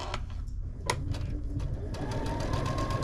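A sewing machine runs steadily, stitching a quilt block seam for an oversized baby lap quilt, with a close, even mechanical hum and rapid needle ticking throughout.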